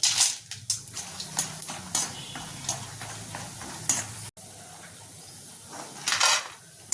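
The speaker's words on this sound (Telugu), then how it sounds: "అన్ని వడియాలు మంచిగా ఇలా ఫ్రై చేసుకోవాలి." Lentil vadiyalu fry in a pan over medium flame, with a steady sizzle and repeated scraping, clinking stirs against the metal.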